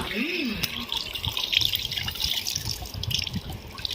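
Water trickles and drips steadily at close range, a wet splashing sound as a silk saree is squeezed out, with faint low voices underneath.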